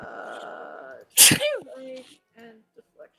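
A sharp, loud sneeze bursts out mid-conversation during a tabletop role-playing session, standing out clearly over surrounding chatter, with people talking before and after it.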